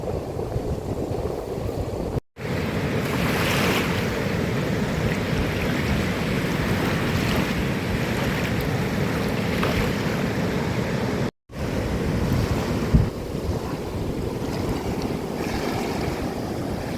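The flooded Ajoy river in spate rushes past with a strong current, a steady, loud broadband roar of churning water with wind buffeting, continuous apart from two brief dropouts.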